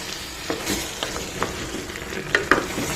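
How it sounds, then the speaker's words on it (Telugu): Raw tomatoes and bottle gourd curry frying in a pan: a steady close sizzle with intermittent stirring scrapes and clinks, a sharper knock near the end. "ఇవి పచ్చివి కాబట్టి కొంచెం ఒక వన్ మినిట్ ఫ్రై అవ్వాలండి"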